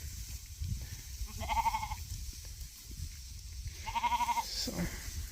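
A flock of sheep on pasture, with two clear bleats a few seconds apart standing out over a low, rumbling outdoor background.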